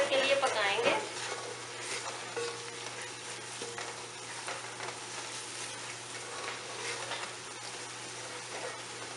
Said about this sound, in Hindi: अब हम इसमें सारे मसाले डाल देंगे। मसालों को हम 1 मिनट के लिए पकाएंगे।